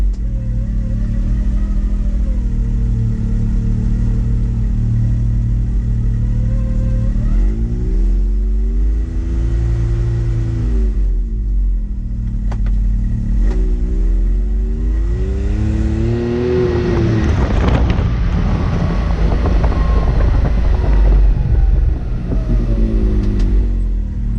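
A Can-Am X3 side-by-side is driven along, its engine droning loudly and continuously with several rising and falling revs as it accelerates and eases off, and no one speaks.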